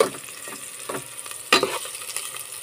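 Onion and ginger sauté in a pan, with soft sizzling under a few short scraping stirs and one louder clank of the utensil, over a brief stretch.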